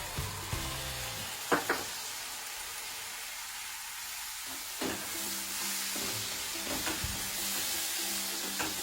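Tomato puree sizzling in a pan of fried spice masala for a Mithila dish, a steady broadband hiss throughout with a few sharp clinks and scrapes of a spoon against the pan.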